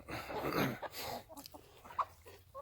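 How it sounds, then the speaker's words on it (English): Chickens cluck softly nearby, a handful of short calls over faint background noise. "the chickens wanted to be videoed as well"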